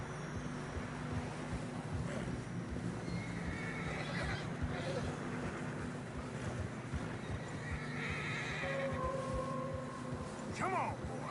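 Horses struggling through deep fresh snow in Red Dead Redemption 2 whinny and neigh repeatedly over plodding hoof steps and a low rumbling bed, close and moderately loud, with a few faint voices underneath.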